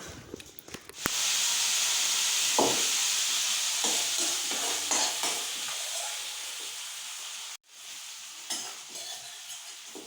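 Ginger, dried red chilli, bay leaf and panch phoron hit hot oil as a tempering for khichuri, giving a loud, steady sizzle with stirring clatter that runs almost unbroken, briefly cutting out near the end before resuming.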